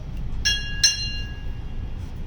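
Ship's bell at a Navy retirement ceremony, two clear metallic strikes a short pause apart, each ringing out with a bright sustained tone over a low background hum.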